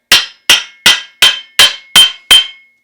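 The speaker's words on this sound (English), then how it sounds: "grab the axe handle with one hand like this, and then hammer on the bottom" A hammer strikes the bottom end of an axe handle while an axe is being hung, seven sharp, ringing knocks at an even pace, loud and close with no talk.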